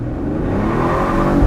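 A 2021 Mercedes-Benz E-450 inline-six convertible accelerates at full throttle, its engine note rising in a steady close-up roar over a short burst with no talking.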